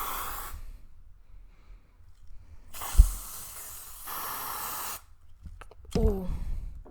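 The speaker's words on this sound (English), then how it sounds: "That is Lynx Africa antiperspirant sweat protection." Lynx Africa antiperspirant deodorant can sprayed in bursts, two long hissing sprays separated by quiet gaps, close, with a couple of knocks and handling sounds.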